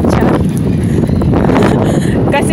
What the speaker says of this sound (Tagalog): Kasi mahangin.